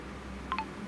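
Two short, faint telephone keypad DTMF tones sound in quick succession over a low background hum.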